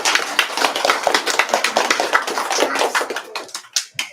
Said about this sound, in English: Let's clap for PLOOF.